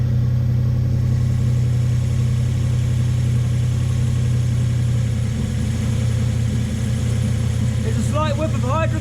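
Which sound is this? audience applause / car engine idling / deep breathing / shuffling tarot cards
car engine idling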